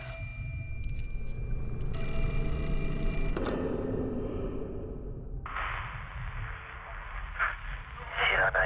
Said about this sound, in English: Oh, the phone again.